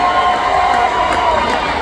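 Crowd cheering and shouting at a monster truck show in Crosby, Texas, a steady, loud wash of voices filling the whole stretch without a break.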